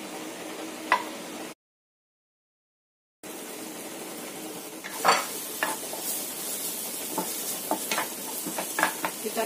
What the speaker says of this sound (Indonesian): Kita akan tumis dulu wortelnya supaya wortelnya itu matang.